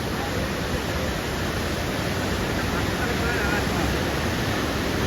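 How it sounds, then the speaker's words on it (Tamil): Water released from Mettur Dam rushes like a waterfall, a dense, constant roar of broadband noise held at steady loudness throughout. "அங்கே பாருங்க அருவி மாதிரி விட்டுது அப்படியே"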